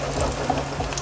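Cornmeal mush frying in hot oil gives a steady, close sizzle with a few small soft pops scattered through it.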